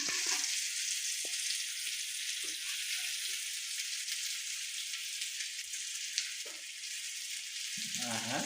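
Fish pieces frying in hot oil in a pan give a steady, close sizzle with crackling pops throughout, plus a few soft clinks of a utensil.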